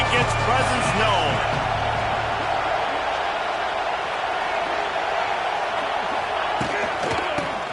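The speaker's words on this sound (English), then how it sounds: "This crowd ready to make its presence known" Stadium crowd at a UGA vs Ohio State college football game: a dense, loud roar of voices fills the whole clip, with thumps and a few shouts inside it and a commentator talking over the top.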